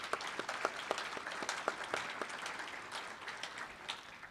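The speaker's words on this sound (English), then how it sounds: "could we all just give a round of applause for our three panelists right now?" An audience at a convention session applauds three panelists, a moderate, fairly distant patter of many hands clapping that tapers off slowly.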